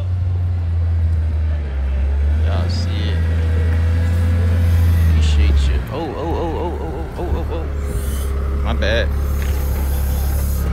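A Chevrolet Monte Carlo driving out, its engine a loud, steady low rumble close by that drops away partway through, while people talk over it.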